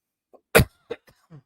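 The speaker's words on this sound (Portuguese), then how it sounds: "Perdão pela tosse deste já" One sharp, close cough, followed by a couple of faint throat sounds and small breaths in an otherwise quiet space.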